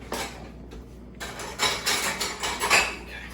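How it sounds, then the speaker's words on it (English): Kitchen utensils clattering as a slotted spoon is pulled from a holder while making chicken in wine sauce, a brief metallic rattle followed by louder jangling knocks, close and unaccompanied by speech. "let me grab a slotted spoon"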